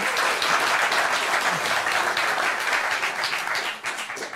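Warm audience applause at a Dutch municipal election debate in Amsterdam, steady dense clapping from a crowd, loud and sustained throughout before easing slightly at the end.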